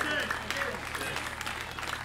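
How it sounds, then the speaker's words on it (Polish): An audience at a 2018 concert applauds, a brief burst of steady clapping heard at moderate distance with a voice speaking over it. "Wielkie brawa."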